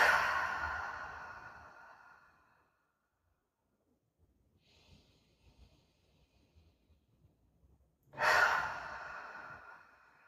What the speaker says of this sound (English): taking 5 big breaths into the low belly